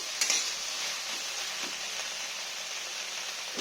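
Okra with salt and turmeric frying in a pan, a steady, even sizzle throughout with a couple of soft stirring knocks near the start.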